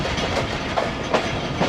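The 5UP Green Line train, hauled by a GU40 locomotive and running five hours late, rumbles loudly with rhythmic clickety-clack of wheels over rail joints, heard from close on board.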